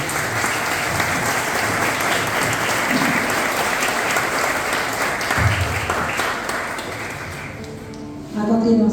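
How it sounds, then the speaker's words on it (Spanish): Sustained applause from a crowd at an album launch presentation, steady clapping for several seconds before fading as a voice begins speaking. "Un fuerte aplauso para ellos."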